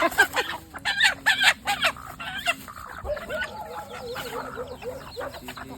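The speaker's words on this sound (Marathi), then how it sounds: "इथे बऱ्याच साऱ्या कोंबड्या होत्या ज्या त्यांनी पाळलेल्या" Hens and roosters kept in a large flock at a poultry farm cluck and squawk repeatedly with a crow mixed in, a busy, moderately loud chorus with no talk over it.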